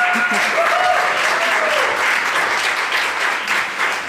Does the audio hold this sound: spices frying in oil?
no